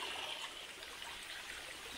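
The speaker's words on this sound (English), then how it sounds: "we're just going down this waterfall right now" Waterfall on a steep, slippery hiking trail along Franconia Ridge, a steady broad rush of falling water filling the whole scene evenly and continuously, close and fairly loud with no talking.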